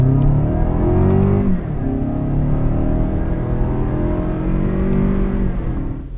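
A 2015 Lexus NX200t F Sport, in manual shifting mode, is floored from about 10 mph. The loud engine drone climbs steadily, dips briefly at an upshift, then climbs again under full throttle, heard from inside the car.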